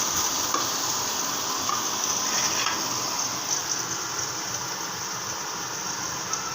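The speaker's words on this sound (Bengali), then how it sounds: "ভালো করে আমি পেঁয়াজের পাতাটা ভেজে নিচ্ছি।" Spring onion leaves fry in a pan with a steady, dense sizzle and occasional stirring scrapes, close and continuous throughout with no talk.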